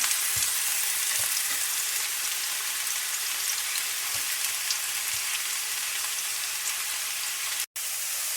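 Onions frying in a pan, a continuous close sizzle and crackle with occasional soft pops from stirring, cut by a brief dropout near the end.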